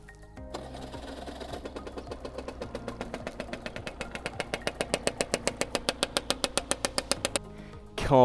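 A motorcycle with a carbon performance exhaust and upgraded carburetor jets idles nearby. Its evenly spaced putter starts suddenly, grows louder and slightly quicker, then cuts off near the end.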